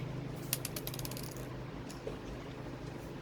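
Screws are tightened into an ATX power supply, heard as a quick run of faint, close clicking and ratcheting ticks early on, with a few isolated clicks later over a low background hum.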